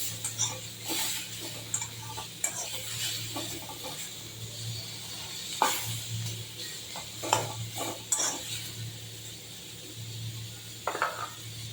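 Cumin and other dry spices scrape and rattle in a pan as they are dry-roasted and stirred, with sharp utensil clinks and a low steady hum beneath.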